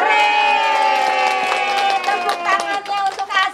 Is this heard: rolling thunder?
no